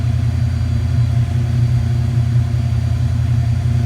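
Foxbody Mustang engine idling as it warms up, a steady deep rumble with an even, unchanging tone, close and loud with no talking.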